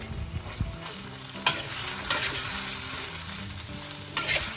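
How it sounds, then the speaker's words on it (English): Okra (lady's finger) fries and is stirred in a pan while cooking a Malaysian kampong-style dish, giving a steady sizzle with occasional sharper scraping clicks of a utensil, close and moderately loud with no talking. "Add in the lady's finger or okra, as some of you will call it."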